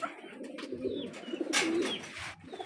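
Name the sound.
pigeons cooing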